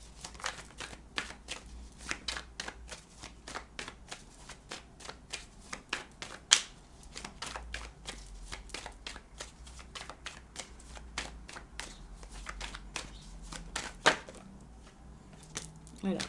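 Tarot cards shuffled by hand in dense rapid riffles and slaps, close and crisp, continuing steadily in bursts throughout with a faint quiet background.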